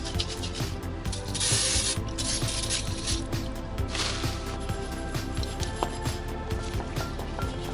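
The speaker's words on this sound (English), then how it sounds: "let's go ahead and hit it with some brake clean to clean this surface up" Brake cleaner sprayed onto a rear brake rotor surface of a Lincoln MKS, sharp hissing aerosol bursts up close, with a couple of longer blasts among small clicks and handling noises, no speech.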